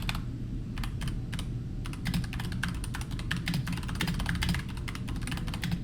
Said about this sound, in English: Typing noises.